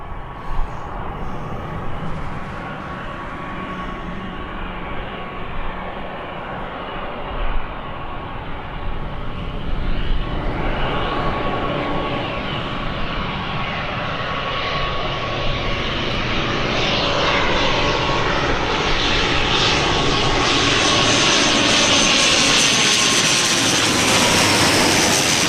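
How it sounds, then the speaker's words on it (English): An ATR turboprop airliner at Birmingham airport, its engines droning steadily and growing louder and fuller as it draws nearer, a continuous propeller whine with no talking. "I do love the sound of an ATR, reminds me of the old days"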